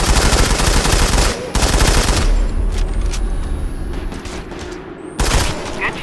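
Gunfire in the mobile shooter Sniper Fury, loud bursts of rapid crackling shots at the start and end, separated by a quieter stretch of ringing echo, with no one speaking.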